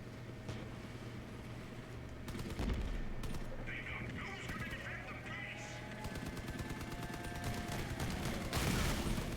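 Gunfire in the vehicle combat game Crossout: bursts of rapid automatic shots and heavy impacts over a constant engine drone, with a voice talking in places.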